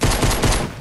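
Pistol gunfire in Fortnite Battle Royale, a quick run of rapid, loud shots close by over less than a second, fading at the end.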